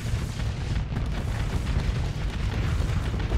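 Reaper antimatter torpedoes detonate in the space combat game Starsector, a continuous roar of deep booms and rumbling blasts that overlap into a dense, loud wall of explosions.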